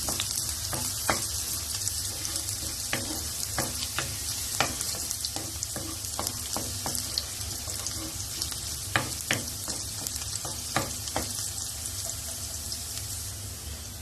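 Chopped onion and garlic fry in oil with a continuous bright sizzle, punctuated by repeated scraping and stirring knocks from a utensil, close and fairly loud.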